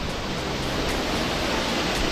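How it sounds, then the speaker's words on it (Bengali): Mawsmai waterfall in Meghalaya, a steady, loud, dense roar of falling water with no pauses, heard close by and alone. "যে শব্দটা শুনতে পাচ্ছেন সেই শব্দটা হলো এই মাউসাডাং ফলস।"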